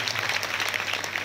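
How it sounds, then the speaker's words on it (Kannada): An audience claps steadily through a devotional puranam recitation gathering, a dense continuous patter of many hands close by with no pauses. "ಇನ್ನೊಂದು ಸಾರಿ ಜೋರಾಗಿ ಚಪ್ಪಾಳೆ ಹೊಡೆ ನೋಡ್ರ"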